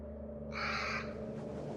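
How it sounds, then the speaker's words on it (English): A crow-like cry bursts out overhead in a dark scene, a single harsh drawn-out call lasting under a second, set over a steady low droning backdrop, with no voices. "A crow-like cry suddenly sounded above everyone's heads"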